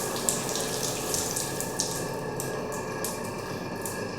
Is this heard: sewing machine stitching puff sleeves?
no